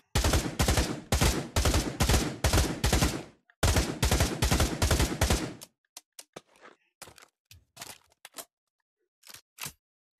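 In Pavlov VR, a bullpup rifle fires loud rapid bursts of automatic fire with one short gap, then a quieter run of sharp mechanical clicks and snaps as it is reloaded.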